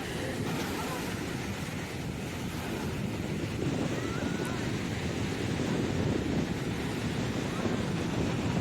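Sea waves crash and surge continuously on Digha beach, a loud, close roar of surf mixed with heavy wind buffeting the microphone throughout.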